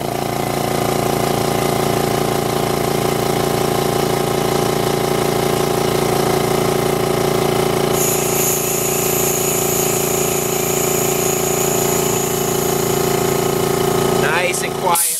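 A quiet air compressor runs with a steady, close mechanical hum and rhythmic pumping chug, a higher hiss joining partway through, a voice talking over it, then a sharp clatter as it stops.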